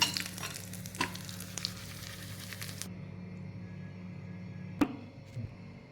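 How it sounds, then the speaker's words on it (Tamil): Curry leaves and a pinch of asafoetida sizzle and crackle in hot tempering oil for broken samba wheat upma, a close, steady frying hiss with scattered pops that drops away abruptly midway, followed by a faint clink. "அது பொறிஞ்சு வந்ததுக்கப்புறம் கருவேப்பிலை சேர்த்துக்குவேன் கருவேப்பிலை சேர்த்துட்டு அதோட சும்மா கால் சிட்டிகை வந்து பெருங்காயத்தூள் சேர்த்துக்கேன்"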